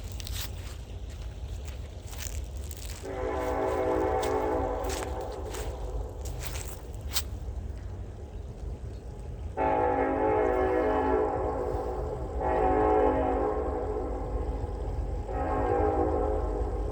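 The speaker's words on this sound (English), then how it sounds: "well, here comes a train." A train rumbles by steadily while its horn sounds in several long blasts, the first alone and later ones in a repeated sequence, fairly near.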